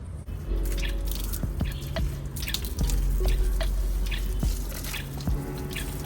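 Potted plants being watered on a hot, sunny day: close, irregular drips and splashes of water fall into soil and pots over a steady background hum, with no speech.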